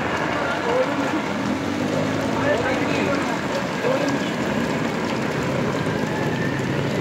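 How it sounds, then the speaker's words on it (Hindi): Heavy monsoon rain pours steadily through the streets of Nazimabad, a dense, continuous hiss of downpour on surfaces holding at a constant loud level throughout. "अभी भी बारिश तेज़ है।"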